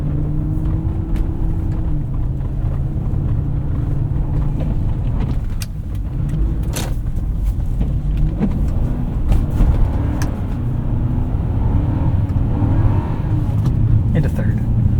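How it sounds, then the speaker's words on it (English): A 2005 Lexus SC 430 on Michelin CrossClimate 2 all-season tires accelerates through snow with traction control off and wheels slipping, its engine droning and rising in pitch, heard from inside the cabin under a speaking voice. "much better acceleration when the wheels are allowed to slip"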